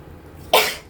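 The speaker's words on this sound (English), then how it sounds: "I can't stop sneezing." A single sharp, close sneeze bursts out abruptly after a quiet moment in an apartment.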